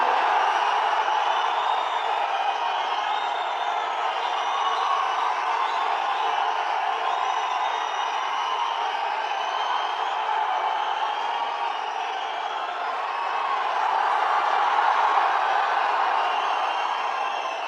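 Sustained crowd noise at a Tamil Nadu party booth committee meeting, a dense steady wash of applause and cheering from a large gathering, holding level for the whole stretch with a slight swell near the end.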